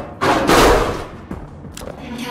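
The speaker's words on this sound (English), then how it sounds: "Gunfire up ahead." Gunfire in the video game Syndicate, a loud burst of booming shots followed by fainter scattered pops and thuds at a distance.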